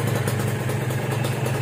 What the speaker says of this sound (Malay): berjaya hidupkan motor ni. Oi, rindunya bunyi dia tu.